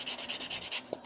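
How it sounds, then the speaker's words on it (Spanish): Foam ball for a doll's face being sanded, a steady rhythmic scratch-rub repeating in quick strokes, close and fairly quiet, ending in a small soft knock. "hay que darle una pequeña lijadita para quitarle todas esas impurezas"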